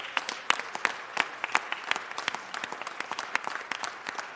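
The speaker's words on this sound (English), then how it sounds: "please give them the thunderous round of applause that they deserve" Applause honouring women firefighters at a city celebration, scattered sharp claps from a modest crowd with uneven, distinct hand strikes rather than a dense roar.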